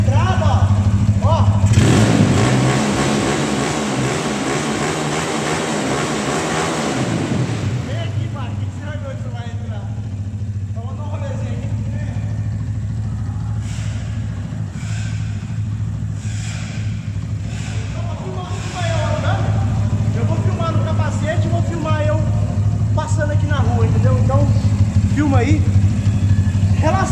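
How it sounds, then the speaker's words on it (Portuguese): A Honda CG 255cc four-stroke OHC motorcycle engine running on gasoline with a carburetor, idling steadily close by with a brief louder rev near the start, while someone talks over it. "motor de gasolina e carburador de estrada"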